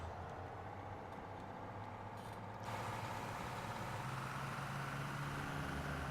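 A big Cummins truck engine in the driving game Rig'n'Roll, a steady low droning rumble that steps up in loudness partway through and holds there, with no one talking.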